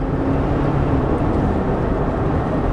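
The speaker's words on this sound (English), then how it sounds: "Boy, that engine sounds healthy" A Cadillac Escalade engine revs and holds a loud, steady, droning roar close up, with no breaks or voices.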